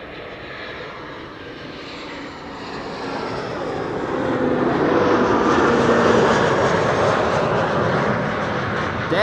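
A German Airways jet flying for KLM on arrival at Amsterdam Schiphol, a steady broad engine roar that swells louder through the middle and holds, heard from a distance with no voices.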